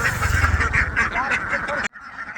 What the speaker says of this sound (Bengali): আর এখন সবাই এই খামারভাবে হাঁস পালন করছে এই দৃশ্যটা দেখে খুবই ভালো লাগছে